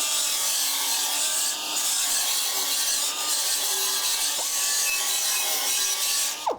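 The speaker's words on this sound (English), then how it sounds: "We're running the slack to deburr the edge." Dynabrade belt file tool running on its slack belt to deburr an edge, a steady loud abrasive rubbing and grinding that continues throughout, with a brief rise at the end.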